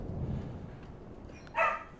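An older female pet dog gives one sharp, close bark near the end of a mostly quiet indoor stretch with low background hum.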